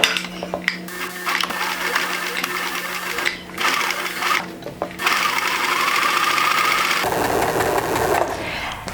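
A sewing machine runs in steady bursts while stitching a dart in fabric, its motor whirring close and loud with short pauses between runs, then one long continuous run toward the end.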